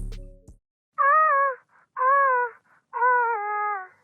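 A dry guitar loop without any ambience effect plays three sustained, bending melodic phrases, close and upfront, preceded by a brief low thump, with quiet gaps between the notes.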